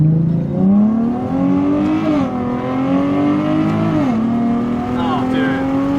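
A car's engine with a newly installed aftermarket exhaust revs close by in a sustained, throaty drone, climbing and dipping in pitch through two or three swells; people speak briefly around it.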